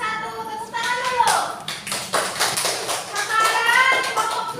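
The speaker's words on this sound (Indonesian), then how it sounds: "Terima kasih kepada kelompok 1. Tepuk tangan dulu." Classroom students clap for a group, in scattered, uneven bursts of hand claps mixed with children's chatter.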